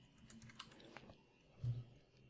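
Keys tapped on a computer keyboard while entering a prompt, a quiet, irregular run of light clicks with one slightly heavier press near the end, close up and without talk.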